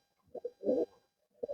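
A pigeon in a loft gives a few soft, close coos in short bursts separated by brief silences.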